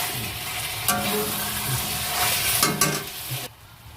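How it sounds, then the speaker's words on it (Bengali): Masala for chicken korma stir-fried in a pan: a steady sizzle broken by a few scraping stirs from a spoon, close by, fading to quiet at the end. "ভালো করে এইভাবে কষিয়ে কষিয়ে রান্না করতে হবে"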